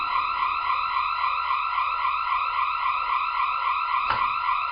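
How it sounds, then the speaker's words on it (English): A house alarm system blares with a steady, loud, multi-tone electronic wail that holds unbroken throughout, with one brief knock or thump near the end and no talking. "We put the alarm on and it went off."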